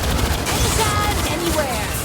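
Gunfire in the Aliens: Fireteam Elite video game against combat synths, a dense loud barrage of shots and explosions under game voice lines.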